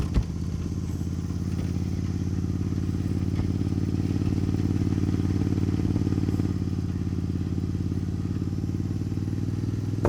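A Suzuki Intruder motorcycle rides a rough, broken road, its engine holding a steady low drone with scattered clatter and thumps from the bumpy surface.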